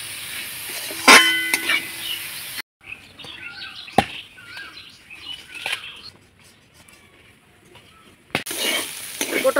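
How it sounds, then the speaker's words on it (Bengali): Chopped pointed gourd fries in a pan with salt and turmeric, giving a close crackling sizzle broken by scraping stirs and a few sharp knocks, with brief quiet gaps between bursts and no voices. "নাড়াচাড়া করে আমি পটলটাকে ভেজে নেব।"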